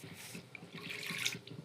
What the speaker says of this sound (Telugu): వాటర్ వేసిన తర్వాత